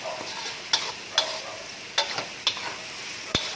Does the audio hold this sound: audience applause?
no